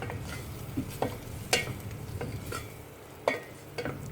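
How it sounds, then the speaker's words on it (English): Okra with turmeric powder being stirred in a pan, a spoon scraping and tapping the pan in a few distinct strokes over a soft, steady sizzle, close and fairly quiet. "Give it a good stir."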